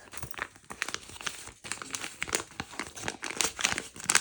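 Close, crinkly rustling and crumpling of a paper surprise packet being unwrapped, with irregular bursts and small tearing sounds, no voices.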